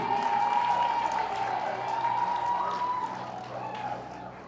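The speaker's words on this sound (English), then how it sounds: "Clap for him." A class of students claps for a classmate during a lesson on leadership and character, a steady wash of clapping with a sustained tonal hum running underneath and fading slightly toward the end.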